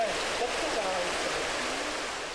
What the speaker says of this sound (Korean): 골목에 들어서자마자 청아하게 들리는 폭포 소리